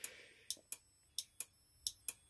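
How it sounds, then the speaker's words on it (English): A cheap Chinese eBay moped motorcycle alarm sounds a series of sharp, piercing electronic chirps, about seven of them at uneven intervals, close and fairly loud with no one speaking. "If you press the alarm button, oh, it turns it off and then starts sounding the alarm."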